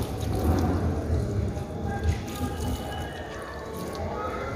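Water poured from a pot or lota over hands during a washing ritual, a steady splashing and dripping stream close by, continuous through the clip with faint voices in the background.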